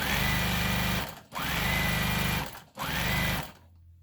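Sewing machine stitching the hem of a sparkly prom dress in three loud, steady bursts of rapid needle chatter, separated by short pauses before the motor stops near the end.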